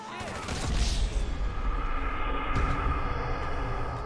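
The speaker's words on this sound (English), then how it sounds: "Just got bloody shot up by people for no reason." Rapid bursts of gunfire from a biker gang in the video game GTA V, a dense crackling volley against a rumbling game background, continuing through the short stretch.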